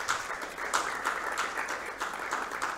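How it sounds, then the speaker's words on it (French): Audience applause welcoming guest speakers at a talk on agricultural initiatives in the DRC; continuous moderate clapping from a mid-sized crowd, even and sustained for a few seconds. "Sous vos applaudissements, s'il vous plaît."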